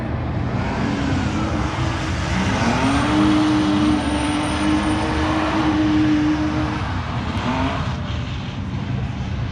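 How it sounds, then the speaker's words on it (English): A supercharged BMW drift car revs hard at Evergreen Speedway during a Halloween drift contest, its loud sustained engine roar rising in pitch mid-run amid steady crowd and track noise. "It's like a supercharged BMW. It sounds crazy."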